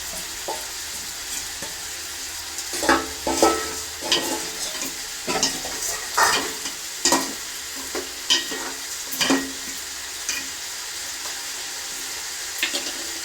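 Lentils stirred into a pot of frying vegetable khichuri, a steady sizzle running beneath a series of scraping, clattering spoon strokes that come in uneven bursts, close and fairly loud, with no talking.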